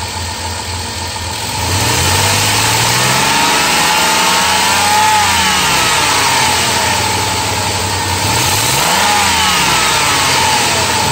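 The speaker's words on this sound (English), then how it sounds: "let's increase the engine RPM and see if we'll have any alternator respond." A Dodge Caravan engine being checked for a battery charging fault rises from idle to higher RPM, with loud, steady mid-pitched engine drone and a couple of sweeping rev changes over about eleven seconds, no talk.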